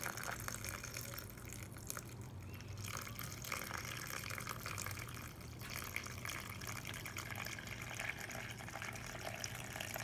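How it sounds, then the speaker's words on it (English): Two cups of water pour into a Vitamix blender in a steady, continuous stream that runs at an even level for around ten seconds, close by and with no voices. "I'm going to do the water right now. So this is 2 cups of water."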